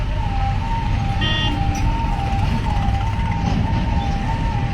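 An ambulance siren wails, rising and falling steadily over heavy traffic rumble in a long jam at Dera Bassi, continuous and fairly close for the whole stretch.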